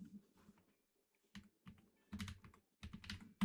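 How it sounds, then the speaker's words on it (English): Close, clicky keystrokes on a computer keyboard during a Rocket League viewer tournament stream, arriving in irregular bursts with short pauses between them and growing busier toward the end, with no talking over them. "What the fuck are you typing, Jay?"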